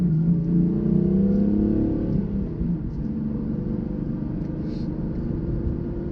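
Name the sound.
2015 BMW M3 with manual gearbox accelerating uphill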